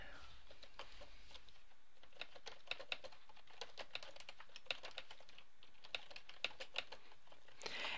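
Rapid, uneven keystrokes on a computer keyboard as someone types a message, a steady clatter of close, crisp clicks over a quiet room for about eight seconds.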